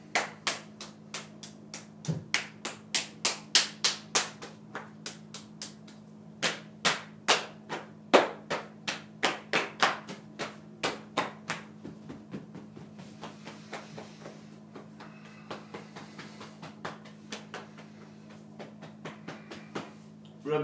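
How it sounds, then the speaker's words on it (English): Hands tapping and patting the body during Taoist meditation, a long run of sharp, close slaps in a steady rhythm that pauses briefly and then thins to softer, quicker pats, with a constant low hum underneath. "Tap your body."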